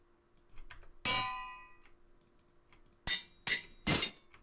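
A Minecraft anvil breaks after use, giving a faint metallic clang followed by three sharper ringing clangs in quick succession, with quiet background otherwise.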